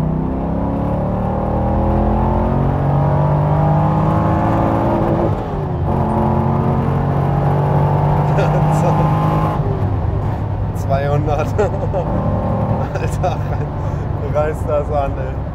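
Subaru BRZ with a swapped LS3 V8 pulling hard in third gear on the autobahn, a loud steady engine roar rising in pitch with a gear change partway, while people talk in the car.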